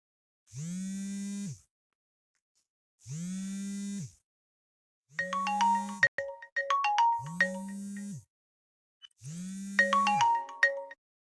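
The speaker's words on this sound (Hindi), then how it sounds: "ओके, माफ करें, या बीच में ये फोन आ गया था।" A phone ringtone plays five times in a steady pattern of long, loud tones separated by short pauses, the later rings carrying an added bright melodic jingle, with no voices over it.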